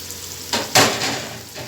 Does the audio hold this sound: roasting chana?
yes